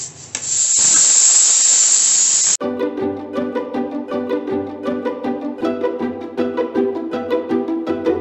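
Pressure cooker cooking dal and rajma lets out a loud, steady steam hiss for about two seconds, then cuts off abruptly and gives way to a continuous rough rubbing, rattling sound.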